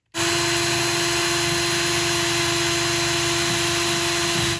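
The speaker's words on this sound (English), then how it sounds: "I'm just going to use this little grinder. It's actually a Dremel attachment, but on a drill." A Dremel grinding attachment driven by a drill grinds around a spot on a DIY guitar pedal kit, a steady close, loud whirring drone with a constant high whine running alone for several seconds.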